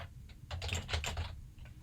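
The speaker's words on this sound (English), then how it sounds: "I can just keep typing" Rapid keystrokes on a computer keyboard, clustered in a dense burst of quick clicks with a few isolated taps before and after, close and fairly quiet.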